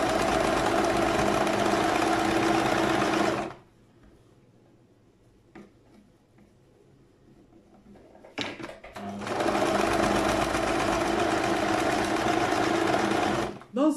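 An electric sewing machine stitches a kimono jacket in two long, loud continuous runs, separated by a quiet pause filled with faint handling clicks before the motor starts again.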